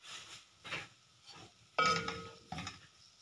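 Beef keema being stirred in a pan, with soft scraping bursts and a gentle sizzle, plus a brief louder clatter of the utensil against the pan near the middle.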